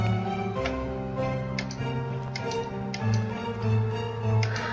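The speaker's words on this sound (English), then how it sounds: "Was there a grandfather clock somewhere?" A grandfather clock in the video game The Last Door ticks faintly in a steady rhythm beneath sustained, droning background music, with no speech.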